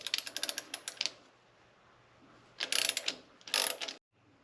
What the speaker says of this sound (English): Now I can take the idler pulley off.